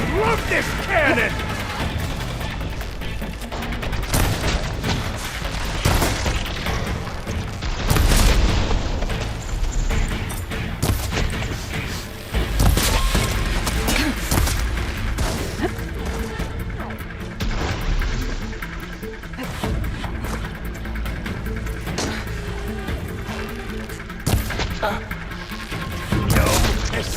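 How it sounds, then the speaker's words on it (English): A cannon fires again and again in the video game Horizon Forbidden West, loud booming blasts and bursts mixed with explosions and battle noise across a long stretch, with voices shouting over the chaos. "I love this cannon!"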